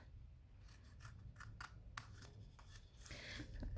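Scissors cut through cardstock for a plaid Christmas treat box, heard as a few quick, close snips over a low hum, with no one talking.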